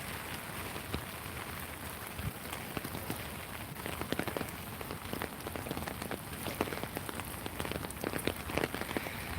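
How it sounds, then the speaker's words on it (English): Steady early-morning rain falls outside in Korea as a dense, even hiss with scattered drop taps, constant and unbroken, no voices. "It is raining today, guys, so let's take care driving"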